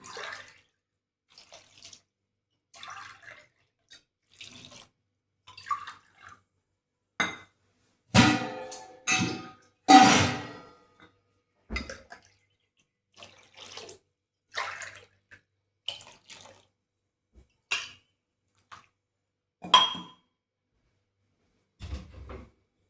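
Water poured from a tumbler into a pot for dal rice, about five and a half measures: a series of short separate splashes and gushes with clinks of metal between them, close and loud.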